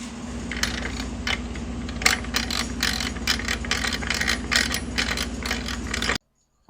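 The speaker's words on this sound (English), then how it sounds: "I got it running with the battery, and I just have the weight of the motor on the belt" Battery-powered treadmill motor from a Shopsmith conversion, running with its weight on the belt to drive gearing: a steady low hum with rapid, uneven mechanical clicking and rattling on top, holding for about six seconds before stopping abruptly.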